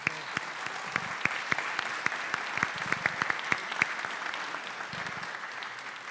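Audience applause at a public forum on security and justice, a sustained wash of clapping from a seated crowd with distinct sharp individual claps standing out near the front, steady in level throughout.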